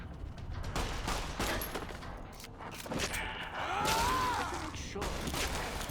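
Gunfire in Fallout: New Vegas comes as several sharp cracks spread through a busy stretch of combat noise, moderately loud and fairly close, mixed with other game sounds.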